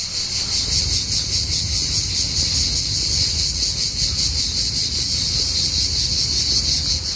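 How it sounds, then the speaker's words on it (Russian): Cicadas sing in a seaside park in Cyprus, a loud, continuous, pulsing high buzz that fills the whole stretch, with a low rumble of sea or distant noise underneath. "Слушать не только шум моря, но и цикад. Слышите цикад?"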